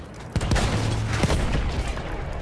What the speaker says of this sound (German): diese Schüsse sind gefährlich